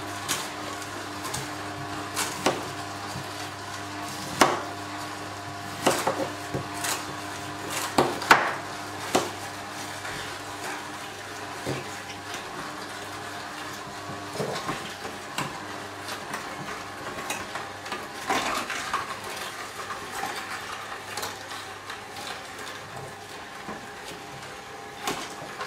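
Oscar Pro Juicer v2 slow-press juicer crushing a pear, a steady low motor hum with irregular cracking and squeezing knocks throughout, close and moderately loud, no talking.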